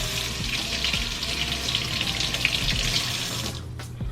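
Steady rush of tap water running into a sink while a glass jewellery box is rinsed, continuous and close, with a few small knocks and no talk, the flow cutting off near the end.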